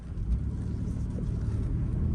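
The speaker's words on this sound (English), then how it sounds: "we just pulled out of the shop, going for our first test drive." A rebuilt, previously structurally totaled Toyota 4Runner out on its first test drive after leaving the shop, heard as a steady low engine and road rumble from inside the cabin, continuous and moderately loud with no talking.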